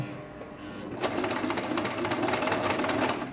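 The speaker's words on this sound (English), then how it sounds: "So I'm now sewing the second one." A sewing machine tacks a button onto a ladies' shirt, running in one steady, close whirring burst with a rapid needle rhythm after a quieter start.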